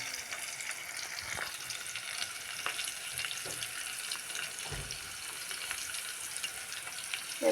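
Green chilies and onion frying in a pan for a ladies finger (okra) curry, a steady soft sizzle with occasional clinks and stirring, no talking.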